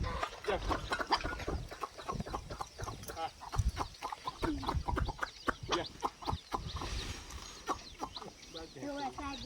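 Free-range village hens cluck busily and close by in quick, repeated bursts while people talk over them.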